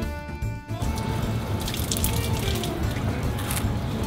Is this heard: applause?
no